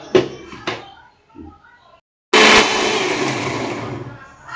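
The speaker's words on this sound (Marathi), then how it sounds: "याची आपण पेस्ट करूया आणि आता आपण ग्राइंडरला लावूया" Mixer grinder blending onion, garlic, cumin and coconut into a paste, starting abruptly after a few brief knocks and a pause, then running as a loud, steady whir that fades slightly toward the end.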